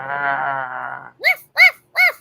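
A dog gives a low, sustained growl, followed by three short, rhythmic, voiced grunting bursts, all close and fairly loud.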